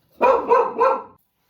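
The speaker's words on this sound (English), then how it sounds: "The dogs start barking, so apologies for that." Dogs at home bark loudly and close by, three strong barks in a steady rhythm with no talk over them, then silence.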